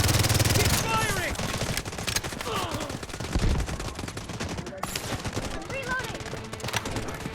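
Rapid bursts of gunfire crackle through a match of the mobile shooter Delta Force, loud and close, with volleys overlapping in a dense, continuous barrage while players shout to each other over the shooting.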